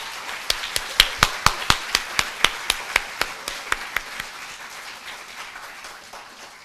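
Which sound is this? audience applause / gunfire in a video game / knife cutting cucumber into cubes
audience applause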